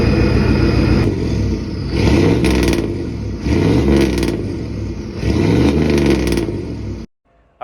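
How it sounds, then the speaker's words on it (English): A truck engine with a newly installed exhaust revs hard and loud at close range in three or four surging pulses, each climbing then dropping back, before the sound cuts off abruptly near the end. "And we got the new exhaust installed."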